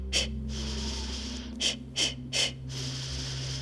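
Forceful exhaling breaths through the nose during a yoga spine twist, four sharp close puffs in quick rhythm over a steady background hum.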